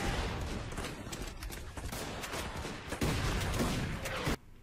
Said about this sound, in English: Without the those machine guns, they're screwed.